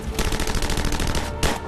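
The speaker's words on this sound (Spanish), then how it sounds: "¡Seguid disparando!" Machine gun fire in a WWII battle, rapid sustained bursts of closely spaced shots, loud and near, with a brief pause before another burst.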